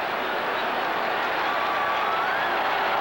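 Stadium crowd at a 1984 Michigan vs Auburn college football game roars in a dense, loud, unbroken wash of cheering and clapping from a large audience.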